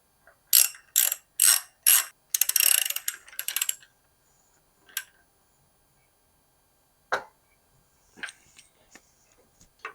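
A tool ratchets on an English threaded bottom bracket of a bicycle, several loud quick clicking bursts in a row, then a few sparse faint clicks and taps in a quiet workshop.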